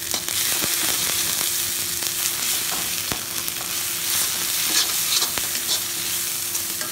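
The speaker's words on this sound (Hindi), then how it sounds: "तो मैंने ये सारे मसाले इसमें ऐड कर दिए हैं और इसको अच्छे से भून लेंगे।" Spices and jackfruit fry in an iron wok, a steady crackling sizzle broken by the scrape and clatter of stirring, close and continuous with no talking.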